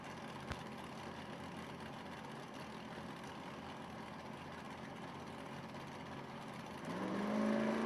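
A drag racing car engine held at a steady, distant idle-like drone, then building in revs near the end, with crowd and track ambience underneath.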